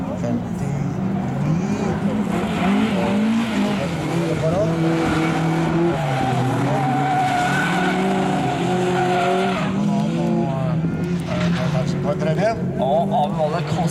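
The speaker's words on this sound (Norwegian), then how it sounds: "Aven Valle kaster den inn i denne her jokersvingen, og skal være forsiktig" A historic rallycross car slides through the joker lap corner at Finnskogbanen during a Norwegian championship heat, its engine revving and tires squealing continuously as it drifts close by, with a commentator talking over it throughout.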